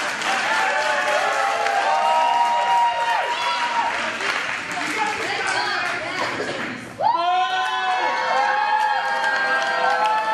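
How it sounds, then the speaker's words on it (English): A wrestling crowd at a Twin City Wrestling show gives a mixed response, cheering and booing together in a loud, continuous roar, with voices clearly standing out in the din. "Mixed response from the crowd."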